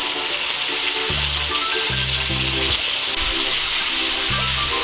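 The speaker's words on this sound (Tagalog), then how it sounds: "Ngayon po ay igigisa ko itong carrots." Carrots sauté in hot cooking oil in a pan, giving a steady, close sizzle with faint scraping and clinks of a utensil stirring, and no talking.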